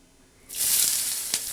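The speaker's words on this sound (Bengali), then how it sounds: "ম্যাগিগুলোকে সিদ্ধ বসানো হয়ে গেলো" A pot of Maggi noodles sits on a stove. After a short quiet moment, a sudden close, steady hissing sizzle bursts up and carries on to the end.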